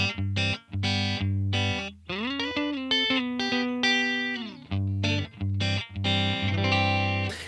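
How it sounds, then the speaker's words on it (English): Electric guitar through a Headrush MX5 with a stacked Cali76 compressor, with a clean, warm neck single-coil tone playing chords and a sustained bent lead line, heavily effected with distortion-like grit, up close. "So this is what it sounds like with the neck single coil."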